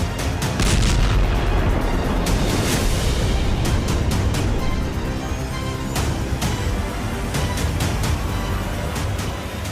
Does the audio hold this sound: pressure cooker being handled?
no